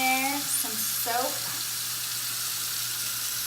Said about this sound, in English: we want to wash our hands. Put some water on there, some soap.